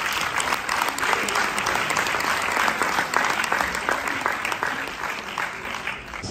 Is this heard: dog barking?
no